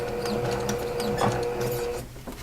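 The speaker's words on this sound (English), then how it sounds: "Now I'm going to slow up my machine because I do not want to go beyond this pin." A sewing machine runs slowly and steadily while stitching a scant quarter-inch seam on a small patchwork tote bag, giving a continuous close mechanical hum with a faint rhythmic whir and no talking.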